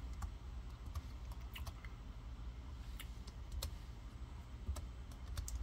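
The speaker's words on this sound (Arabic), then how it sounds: "أنا بكتب عليه clean" A few quiet keystrokes on a computer keyboard as a word is typed, sparse clicks over a low steady hum, no talking.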